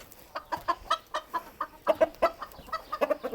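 Roosters cluck in a quick run of short, sharp clucks, close and distinct, sounding agitated as they square off to fight, with no talk heard.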